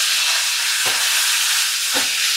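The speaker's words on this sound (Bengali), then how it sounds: "এবার ওই একই তেলের মধ্যে আমি দেখো ফুলকপি দিয়ে দেব" Cauliflower pieces fry in hot oil left over from frying potatoes, giving a steady, close sizzling hiss throughout, broken by two soft knocks of stirring.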